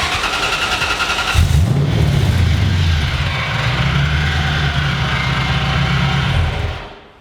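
A drift truck fitted with a new, bigger supercharger pulley fires up and settles into a loud, rough idle with a throbbing low rumble, then cuts off abruptly.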